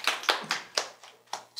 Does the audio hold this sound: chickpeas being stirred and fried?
no